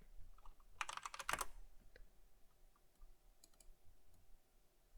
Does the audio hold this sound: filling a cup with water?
no